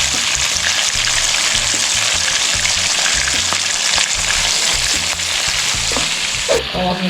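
A5 beef fries in a pan until nearly burnt, a loud, close, unbroken sizzle with a brief clink of a utensil near the end.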